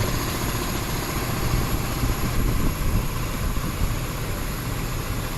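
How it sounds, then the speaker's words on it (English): The AC compressor on a 2007 Ford Fusion with a 3.0 L AWD engine runs as a steady, loud mechanical hum and whir, heard close up and continuous, with no speech. "And of course the compressor turns on."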